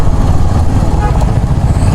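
A group of five rental motorbikes riding together in Pokhara, a loud, close, continuous engine rumble with a fluttering low drone and no break.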